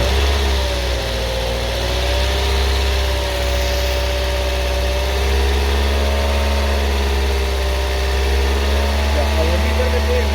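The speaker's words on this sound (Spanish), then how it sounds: "Vamos ahora a incrementar las RPM del motor y lo vamos a colocar en 2000." A car engine runs steadily at a raised 2000 RPM during a charging system check, a constant close drone with a slight wavering hum and no talking.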